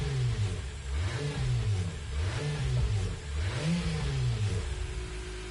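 A Honda NSX with a 3.5-litre V6 revs in the Gran Turismo Sport racing game, its engine note rising and falling repeatedly in loud, continuous sweeps with no talking.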